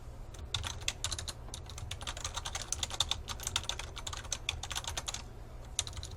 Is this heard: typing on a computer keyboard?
yes